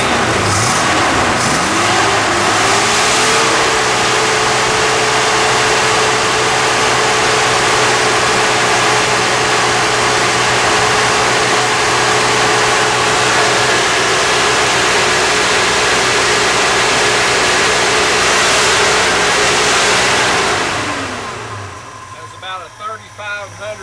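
Carbureted car engine idling roughly and unevenly, a loud, steady drone with a faint wavering hum, then the engine shuts off and quiet follows near the end.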